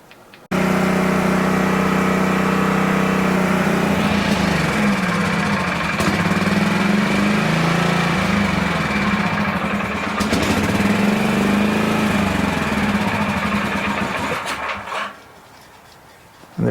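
A portable generator engine runs loud and close with a steady droning hum and rough vibration, then sputters and winds down until it dies near the end, leaving quiet.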